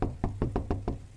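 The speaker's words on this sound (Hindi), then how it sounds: "बेटा अर्जुन, दरवाजा खोल बेटा।" Someone knocks on a door: six firm, evenly spaced raps in quick succession, close and clear, with no talking over them.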